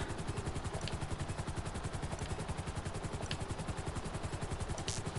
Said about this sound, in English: we haven't got as fast of a helicopter, but you know, it's going to do the job